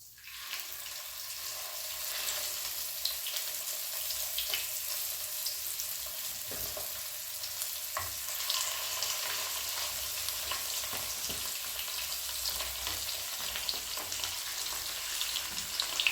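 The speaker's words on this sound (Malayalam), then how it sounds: "ഇനി അതിലേക്ക് നമുക്ക് ഇവിടെ മസാല തിരുമ്പി വെച്ച മീൻ ഇടാവുന്നതാണ്" Masala-rubbed fish and a few sprigs of curry leaves fry in hot oil in a pan, a steady, dense sizzle that holds close and even throughout, with no voices.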